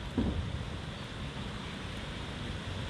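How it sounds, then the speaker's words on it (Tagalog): Broad, steady rushing of typhoon wind through leaves at a farm, with a soft rustle throughout, fairly faint, with a slight gusty bump at the start. "biglang nabakbak naman ang dating ng hangin"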